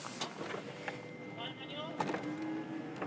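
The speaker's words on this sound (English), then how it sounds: "it's fully complete with glass power windows, working power windows" Working power windows in the carbon door panels of an S14 drag car with a billet 3.2 RB whir briefly, a faint electric motor hum under people talking nearby, with a few clicks and knocks.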